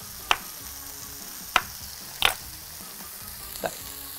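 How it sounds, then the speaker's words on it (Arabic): Onions frying in a pan for chicken and mushroom soup are stirred now and then, a steady soft sizzle broken by four sharp scraping knocks of the utensil, with no voice present. "طيب تعالوا نقلب البصل."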